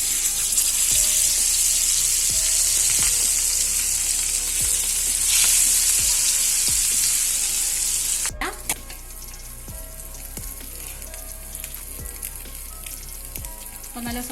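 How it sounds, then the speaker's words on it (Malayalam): Fish pieces frying in hot oil for a catering-style Malabar fish biryani give a loud, steady sizzle with occasional stirring clicks; the sizzle drops sharply partway through, then continues quieter. No talking. "ബാക്കിയുള്ളതും നമുക്കിതുപോലെ തന്നെ വറുത്തെടുക്കാം"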